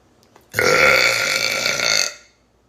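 A single long, loud burp, roughly a second and a half of rough, resonant belching that rises abruptly and then trails off into quiet.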